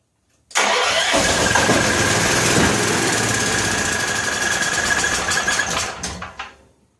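An 8500-watt electric-start generator engine cranks loudly and continuously on its starter for about six seconds without catching, then winds down and stops.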